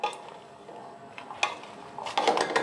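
Ingredients being stirred in a cooking pan without further heating, heard as quiet scrapes and light clinks of a utensil against the pan, growing busier toward the end, with no speech.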